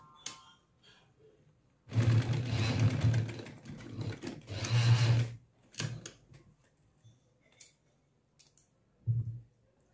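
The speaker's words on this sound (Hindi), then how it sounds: "चलिए सिलाई करते हैं यहाँ से स्टार्ट।" A sewing machine stitches a fabric suitcase cover in several loud, close bursts of rapid mechanical chatter, separated by quiet pauses and a few brief clicks and fabric handling sounds.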